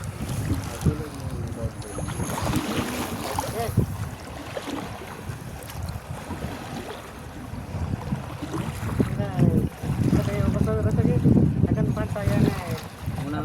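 A boat creaks and sloshes on the choppy Narmada River as wind buffets the microphone, with voices talking and exclaiming over the noise.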